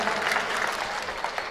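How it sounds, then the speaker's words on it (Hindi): Audience applause at a humorous poetry recital, a steady patter of many people clapping together, moderately loud and continuous, without voices on top. "ताली बजा दो यार"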